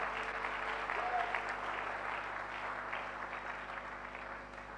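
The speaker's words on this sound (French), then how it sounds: "Nous acclamons très fort." A church congregation applauds loudly during a sermon, a dense, steady wash of clapping from a large crowd that holds for several seconds without a break.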